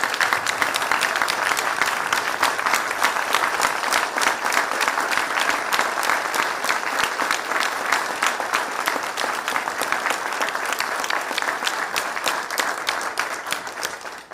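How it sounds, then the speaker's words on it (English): Sustained applause from a large audience at the introduction of a new police chief, dense and steady clapping throughout, fading slightly at the end. "I'm sure that we could applaud for a lot longer"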